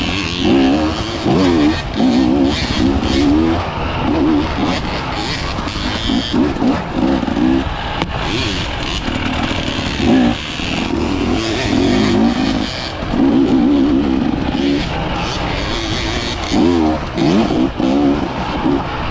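Cross-country motorcycle on a training track for the third stage of the Ukrainian championship, its engine loud and close, revving and easing repeatedly through turns in a continuous rising and falling drone.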